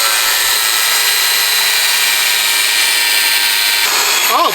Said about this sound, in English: All right, find the angle grinder.